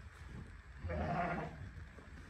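A Hissar breed lamb lets out a single short, wavering bleat at close range against a quiet background.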